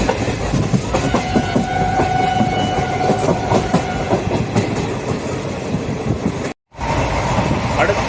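Passenger train running on mainline track, heard from on board: a continuous rumbling roar with rhythmic clickety-clack of wheels over rail joints, a brief dropout near the end, then the rolling noise resumes.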